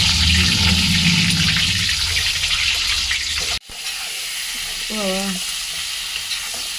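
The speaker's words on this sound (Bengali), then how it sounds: "ডিম ভাজব" Eggs sizzle and crackle loudly in a hot pan for egg curry, a dense steady frying hiss that cuts out abruptly midway, then resumes with a brief tonal whistle-like squeal over it.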